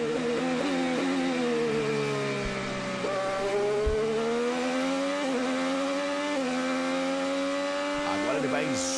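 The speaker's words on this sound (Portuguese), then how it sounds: "Vamos sentir a saúde do motor Chevrolet do Hélio" Hélio Castroneves' Chevrolet IndyCar engine screams continuously at high revs around the Toronto street circuit, dipping briefly under braking and climbing again through the gears, with a commentator talking over it.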